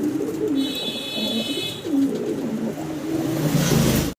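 A pair of grey-coloured Lahori fancy pigeons coos, with low, soft, repeated coos running close and steady throughout, and a faint high tone drifting in the background.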